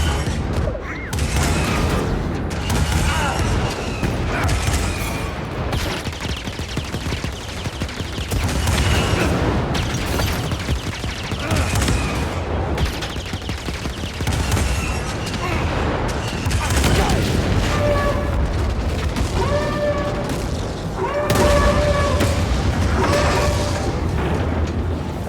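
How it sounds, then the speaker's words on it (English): Cannons on an AT-AT firing in Star Wars Jedi Fallen Order, a dense run of booming blasts over a rumbling battle, loud and continuous, with a voice talking over parts of it. "So that fires the cannons."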